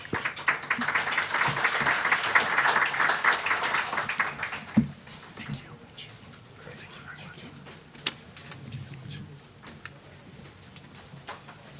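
Applause from a bar audience after a talk on the Fukushima Daiichi crisis, dense clapping for about four seconds that then fades into scattered claps and room murmur.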